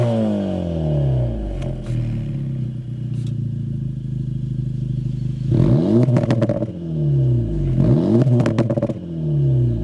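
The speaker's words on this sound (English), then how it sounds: "start it up, so you can hear that exhaust note." A 2025 Acura Integra Type S idles with a steady low exhaust drone, then swells in two short rev blips with a brief rasp before settling back, all heard close up.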